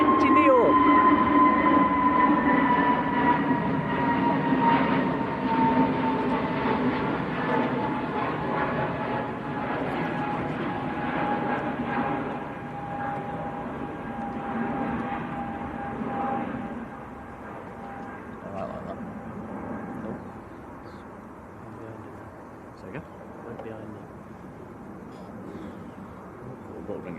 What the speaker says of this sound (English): This is Pegasus getting airborne. See how wet the runway is now. Pegasus to Istanbul, an A320 Neo.